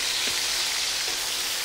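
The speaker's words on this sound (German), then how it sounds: "das Fleisch ist schon schön angebraten" Meat sears in a hot frying pan with a loud, steady sizzle and crackle. Faint clinks sound now and then from stirring, and no one speaks.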